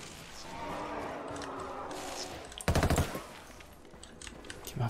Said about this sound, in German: Die Waffe schießt so schnell und ich kann so schnell anlegen.